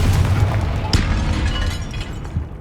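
A Confringo spell in the Hogwarts Legacy game bursts with a sharp explosive boom partway through, over ongoing low rumbling game sound that tails off.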